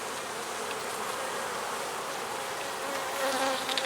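Honeybees flying around a hive after days confined, a steady, close, continuous buzzing hum of many insects with no voices.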